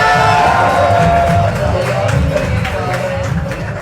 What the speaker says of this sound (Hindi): तो पीछे वाले है तो एक बार ताली बजा के दिखा दो।